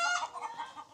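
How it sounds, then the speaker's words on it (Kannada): Hens sitting on eggs in a small farm coop, giving a short run of soft, close clucks with a slightly throaty, rising-and-falling rhythm and no talking. "ಕೋಳಿ ಇವೆಲ್ಲ ನೋಡಿ, ಮೊಟ್ಟೆ ಇಕ್ಕಕ್ಕೆ ಕುಂತಾವೆ ನೋಡಿ."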